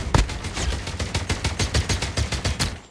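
Rapid sniper rifle gunfire in the mobile shooter game Call of Duty Mobile, a steady burst of sharp, loud reports about every tenth of a second with no talk over it.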